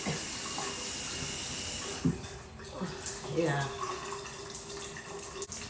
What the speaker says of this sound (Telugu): షవర్ ఆన్ అయింది